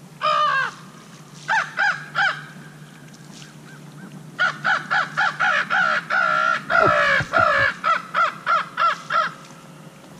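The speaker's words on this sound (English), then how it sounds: "Here comes the whole crow roost." A crow roost arriving at dusk, with many crows cawing in repeated rhythmic bursts, loud and close, one short pause before a dense stretch of calls.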